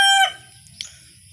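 A rooster's crow cuts off abruptly at the start, followed by a short cluck or squawk and quiet low rumble.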